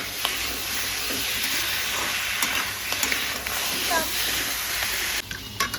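Spices being stirred in a pan of hot oil while kakra (crab) cooks, a steady frying sizzle and hiss with scattered scrapes and clinks of the spoon, fairly close.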